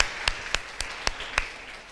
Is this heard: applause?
yes